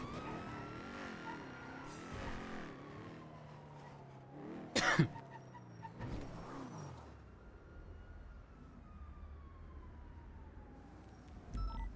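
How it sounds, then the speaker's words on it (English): A Sultan car drives in within the video game GTA V. A steady engine hum slowly falls in pitch as it passes, with a siren, a sharp cough and a throat clearing heard along with it. "Vehicle entering now. There's a Sultan coming in."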